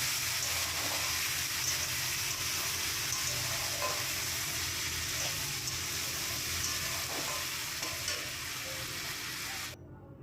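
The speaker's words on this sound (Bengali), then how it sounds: "মশলাটা যাতে কাঁচা গন্ধটা না ছাড়ে, ভালো করে নাড়ি ছাড়িয়ে গন্ধটাকে ভালো মতো কষিয়ে দিতে হবে।" A spice mix frying in a pan for a vegetarian taro leaf dish gives a dense, constant sizzle with occasional soft stirring scrapes, close and fairly loud throughout.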